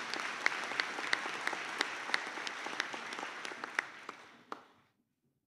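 A small graduation ceremony audience claps in a modest, fairly quiet round of applause, individual claps audible, tapering off and stopping about five seconds in.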